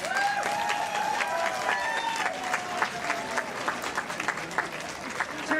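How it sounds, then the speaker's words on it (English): An audience applauds steadily after a stage tribute, with dense clapping filling the room and a few cheers and whoops at the start. "Let's hear a big,"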